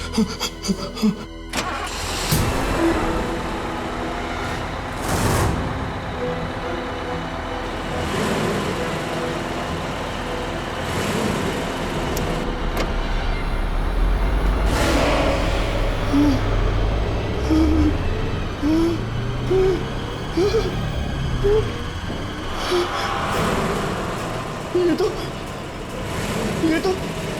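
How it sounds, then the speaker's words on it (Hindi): A large vehicle engine rumbles steadily with a low throb, shifting slightly in pitch as it idles and revs, amid background chatter. "ये तो वही बस की आवाज है।"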